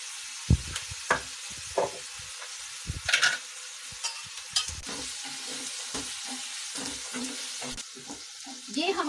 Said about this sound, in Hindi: और प्याज को मैं भूनने दूंगी